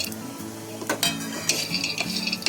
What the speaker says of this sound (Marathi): आता याच्यामध्ये हे बदाम भाजून घ्यायचे